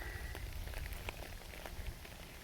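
Steady rain patters on a surface, a dense continuous hiss with scattered sharper drops, no voices.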